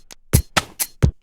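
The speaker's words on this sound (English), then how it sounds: "that is the sheep shearing sound that I did initially try to get a hi-hat out of" Minecraft sheep-shearing sound repurposed as a hi-hat: four crisp, snipping clicks in an even rhythm after a soft lead-in, close and dry.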